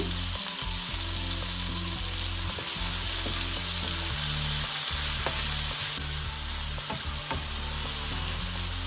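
Steady, loud sizzling of ingredients sautéing in oil in a pan for sambal, with intermittent scraping and stirring strokes over a constant frying hiss and no talking.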